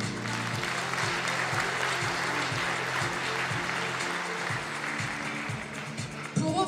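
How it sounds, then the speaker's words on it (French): An audience at a regional Miss Excellence Picardie pageant final in a theatre hall claps steadily, a dense sustained applause that fills the room and carries on throughout. "Je vous demande de l'applaudir."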